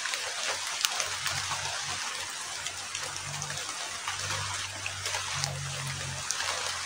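Heavy rain falls in a steady, hissing patter with scattered sharper drips, while a low hum or murmur comes and goes underneath.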